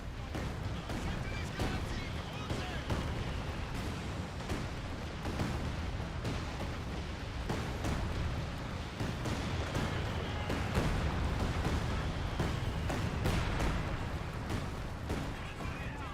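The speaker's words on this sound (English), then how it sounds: "Here comes a Land Mattress barrage." Land Mattress rocket artillery barrage in Company of Heroes 2, a dense continuous rumble of battle noise with repeated sharp bursts and impacts over about sixteen seconds, with a commentator talking over it.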